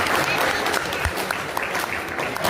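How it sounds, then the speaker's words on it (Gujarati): Enthusiastic applause for volunteers at a Kutch Kadva Patidar community children's gathering in Dehgam, a steady wash of clapping from a sizeable crowd filling the whole moment without a break. "તો આપણે એમના માટે પણ જોરદાર તાળી"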